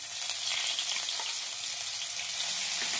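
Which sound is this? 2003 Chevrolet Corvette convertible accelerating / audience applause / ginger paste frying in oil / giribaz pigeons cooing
ginger paste frying in oil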